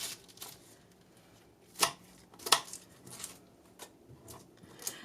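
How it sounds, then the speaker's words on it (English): A knife cuts through a head of cabbage with sharp, crisp crunches and chops at uneven intervals, close up on a board, with soft rustling between the strokes. "Now the cabbage, I have to cut around it a little bit because there are some spots in it that aren't good anymore."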